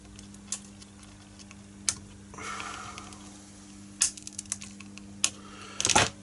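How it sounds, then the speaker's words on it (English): Component leads being trimmed on an FM radio kit build, several sharp clipping snicks at irregular intervals over a steady electrical hum, with a brief scraping in between. "I'll just trim them off."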